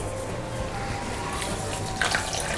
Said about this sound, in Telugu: నీళ్ళు పోసుకొని కలుపుకోవాలి